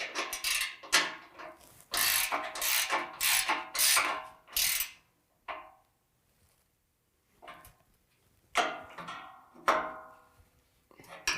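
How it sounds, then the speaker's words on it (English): A 17mm ratcheting wrench tightens bolts on a GEM Tubes Octa bull bar being fitted to a 2017 Ford F-150, giving close, loud bursts of rapid clicking in several separate runs with short pauses between them. "I've switched to a 17mm ratcheting wrench just because you can't really get a socket in there anymore."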